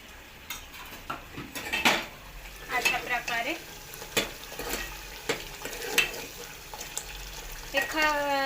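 Masala-stuffed eggplants frying in oil in a home kitchen, a soft steady sizzle broken by frequent metal spatula scrapes and clinks against the pan, close and alone.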